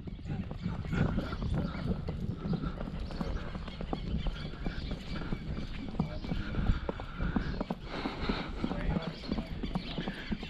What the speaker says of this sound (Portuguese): Bora lá dar uma volta na égua Juliana.